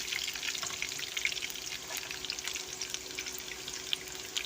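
Green chilies and curry leaves frying in hot oil in a pan, a steady close sizzle with fine crackling pops throughout, no talking.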